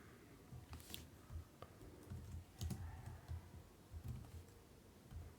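Fingers type on a computer keyboard in a quiet room, producing soft, irregular clicks and taps in short runs.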